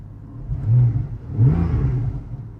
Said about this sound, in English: rev it now with it off